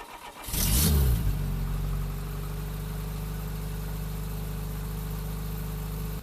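A Renault 10 with the Cléon Fonte engine makes a cold start: a loud cranking burst catches, then settles into a steady, even, close-up idle hum that runs on alone.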